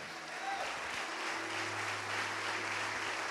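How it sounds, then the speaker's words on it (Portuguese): Church congregation applauding during a service after a sermon, a steady dense wash of clapping that fills the whole moment with a faint hum underneath. "vamos aplaudir mais"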